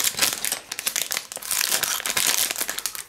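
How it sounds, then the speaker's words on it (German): A plastic package from a LEGO Dimensions fun pack is cut open with scissors, giving close, continuous crinkling and rustling of plastic with rapid crackly bursts throughout. "So, ich habe also die Schere gefunden. Schneiden wir das mal auf."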